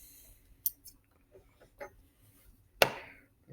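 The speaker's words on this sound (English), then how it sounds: "Cut this thread." Scissors snip through sewing thread while hand-stitching quilt triangles: one crisp, close cut stands out after a few faint earlier clicks and small handling sounds, with no talking.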